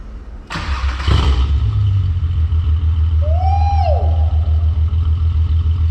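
A 12-valve VR6 engine in a Mk4 Jetta wagon with a Remus muffler and open resonator cranks with a sharp clatter and catches, then settles into a loud, deep, rumbling idle with a throaty, resonant exhaust drone.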